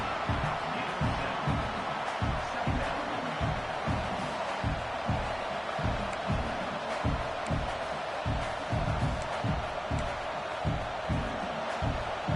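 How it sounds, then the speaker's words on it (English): A college football stadium crowd during an Oklahoma vs Clemson game roars in a steady, dense wash, with rhythmic pulsing surges as fans try to rattle the offense near the red zone. "the crowd coming to life here, trying to help this defense down in the red zone"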